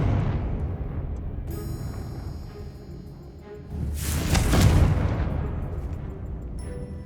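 A Confringo fire spell in Hogwarts Legacy detonates partway through, a loud, heavy burst that rises and then rolls away, set over constant game ambience and tonal effects.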